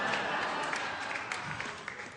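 Audience applause at a stand-up comedy show, a steady dense patter of clapping filling the whole stretch at moderate level, with scattered louder claps and faint crowd murmur beneath.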